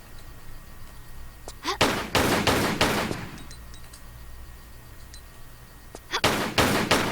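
Gunshots ring out in a Tomb Raider level, shooting at vases: a few sharp, loud shots with crackling breakage around them, then a quiet stretch before another cluster of shots near the end.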